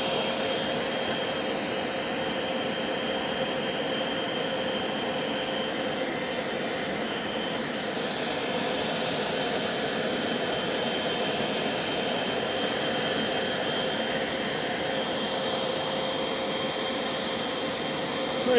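A homemade Kamps jet engine runs on kerosene during a first test, a loud, steady roaring whine holding constant throughout with no speech.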